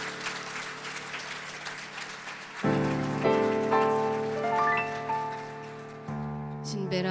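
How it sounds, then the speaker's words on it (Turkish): A gathering applauds a ney player with a short round of clapping that fades after a couple of seconds, giving way to sustained tonal music. "Bir alkış onun için."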